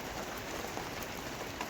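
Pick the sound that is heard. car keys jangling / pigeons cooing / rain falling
rain falling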